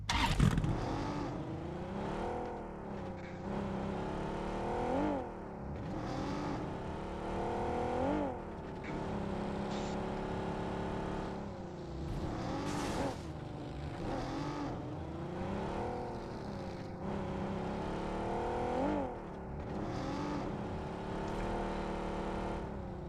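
Vehicle engines in PUBG on the Sanhok map drone and rev continuously, with repeated rising and falling pitch sweeps as the car accelerates and shifts, steady and fairly prominent throughout, no one talking.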